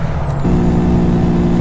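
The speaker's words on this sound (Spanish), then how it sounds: "Freno." Brakes on a Freightliner FLB truck descending a narrow mountain road: a loud, close, steady mechanical drone that shifts to a heavier, deeper tone partway through.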